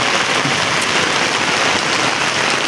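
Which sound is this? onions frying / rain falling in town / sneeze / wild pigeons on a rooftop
rain falling in town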